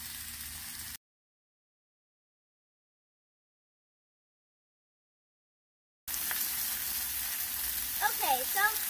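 Cabbage steaks sizzle as they fry in a pan, a steady hissing crackle that drops out to complete silence for several seconds before resuming, with faint voices near the end.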